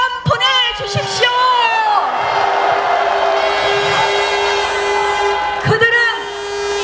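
A rally crowd for Liberty Korea Party lawmakers at Gwanghwamun raises a loud, sustained roar of cheering and yelling that runs for several seconds, with shouted voices swelling at the start and again near the end.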